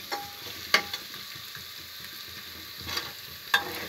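Crushed ginger-garlic paste browning in a frying pan makes a quiet, steady sizzle close up, with a few sharp spoon clinks and scrapes against the pan.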